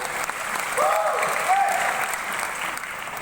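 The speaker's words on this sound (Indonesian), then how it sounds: "Kasih tepuk tangan buat Tuhan." Applause from a church congregation at a Sunday service, a full, continuous wash of clapping with a faint voice briefly rising over it midway.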